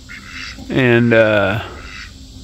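A loud, nasal honk rings out close by, a drawn-out call from geese and ducks in a mixed farm flock over a quiet outdoor background, with a brief spoken word nearby.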